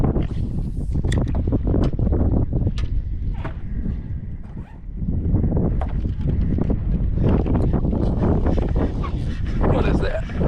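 Wind gusts over Chesapeake Bay during rockfishing from a boat, a loud, steady roaring buffet against the microphone with brief knocks and splashes, and a voice at moments.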